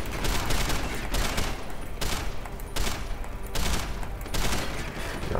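Heavy-recoil gunfire in the video game Deus Ex Human Revolution, a dense, loud fusillade of rapid shots pulsing in bursts throughout, with no talking.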